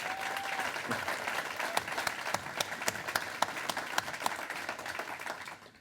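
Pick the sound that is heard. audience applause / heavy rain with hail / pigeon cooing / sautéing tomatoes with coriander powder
audience applause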